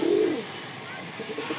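Chocolate racer pigeons coo once, loud and close, in a short low call at the start, followed by quieter faint cooing and soft background murmur.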